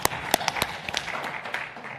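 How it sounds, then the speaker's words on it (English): Scattered handclaps from a small group at a government advisory board meeting, a handful of sharp separate claps spread unevenly over a couple of seconds, faint and somewhat distant in a quiet room. "That's worthy of applause."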